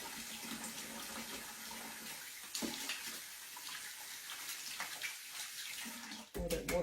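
Hot water runs steadily from a kitchen tap into a sink, a close, broadband rushing that continues throughout, with a brief clatter near the end.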